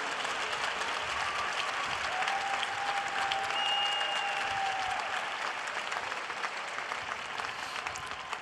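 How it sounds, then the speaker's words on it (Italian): Audience applause at a papal general audience, a dense, sustained roar of many hands clapping that fills the whole stretch, fairly loud and steady, with a faint tonal whistle-like line drifting through the middle. "loro meritano tutti davvero un grande applauso di tutti."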